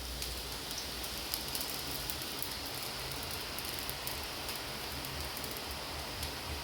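Gram-flour sev batter pressed into hot oil in a thick-bottomed kadhai, a steady, even sizzle and crackle of frying that holds level throughout with no talk over it.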